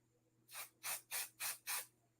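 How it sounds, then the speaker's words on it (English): Five short hissing sprays of adhesive from an aerosol can onto embroidery, evenly spaced and fairly close, each burst lasting about a quarter second, over a quiet low hum. "This is where we're gonna spray a little bit of adhesive."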